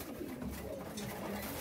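Pigeons cooing inside a pigeon loft, soft low repeated coos from a few birds nearby, with someone talking over them.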